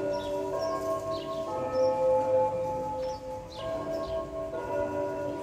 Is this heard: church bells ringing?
yes